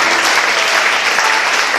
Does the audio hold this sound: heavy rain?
no